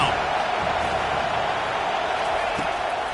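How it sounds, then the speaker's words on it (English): Stadium crowd roar in the College Football 25 video game, a dense, steady wash of loud noise on a third-down defensive stand, holding even throughout. "Decibels rising as the crowd gets behind this defense on 3rd down."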